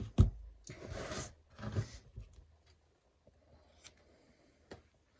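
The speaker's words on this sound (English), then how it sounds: "I do it with my scissors." Scissors snip through cheesecloth at a crafting table for a junk journal cover, a few close, quiet cuts and rustles in the first two seconds, then sparse small clicks and handling noises.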